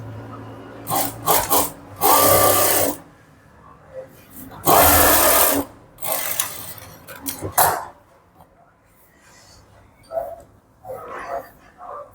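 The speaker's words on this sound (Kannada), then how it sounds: "ಈ ಕಡೆ ಎಡ್ಜ್ ಸ್ಟಿಚ್ ಹಾಕೊಳ್ಳೋಣ." A sewing machine runs in several separate bursts, edge-stitching a blouse for a boutique-style finish, with short pauses and handling noises between the runs.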